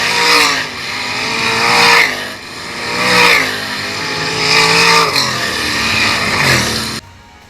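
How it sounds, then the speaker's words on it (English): 410 sprint cars roar down the front stretch at Attica Raceway Park, loud engine sweeps passing in repeated waves about every second and a half, building and fading as each car goes by, then cutting off abruptly near the end. "the wave lap for the 410 sprint cars as they come down the front stretch"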